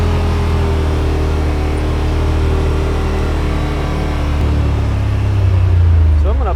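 A 2021 Yamaha Wolverine RMAX2 1000 Limited Edition side-by-side crawls up a hill in low gear, four-wheel drive and crawl mode, its engine holding a steady loud drone that rises slightly near the end, with a voice speaking over it.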